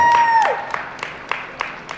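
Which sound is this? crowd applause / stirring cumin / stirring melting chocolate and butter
crowd applause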